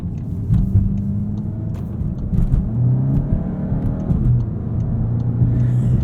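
A 2022 MK8 VW Golf GTI engine in sport mode hums low and steady from inside the cabin, with a faint rise in pitch as it pulls, continuous and moderately loud with no talk.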